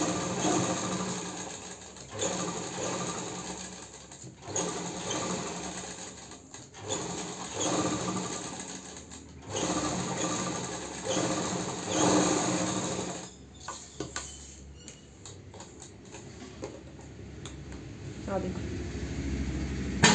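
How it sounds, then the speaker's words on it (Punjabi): A sewing machine stitches the neck onto a Punjabi ladies' suit, running close and steady in long rhythmic stretches with brief pauses, and someone talks over it now and then. "ਇਹਦੇ ਆਪਾਂ ਨਾਲ ਨਾਲ ਸਿਲਾਈ ਲਾਵਾਂਗੇ।"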